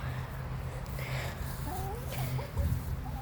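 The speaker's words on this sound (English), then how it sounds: "look at these chickens" Chickens in a yard make soft, scattered clucks and short calls, fairly close, over a constant low hum with no speech.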